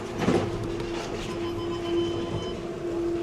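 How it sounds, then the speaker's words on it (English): A Channel Tunnel train arriving in Calais rumbles steadily with a sustained low hum and a metallic whine, carriage noise rising and easing as it rolls along. "our underwater train finally arrived in Calais"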